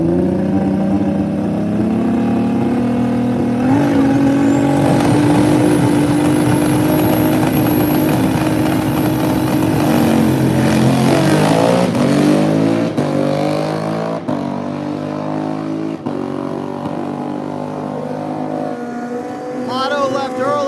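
Drag bikes, a Kawasaki ZX10 and a Harley Davidson Twin Cam, racing at a dragway: loud engines roar and rev upward as they launch and pull away, with a commentator talking over them.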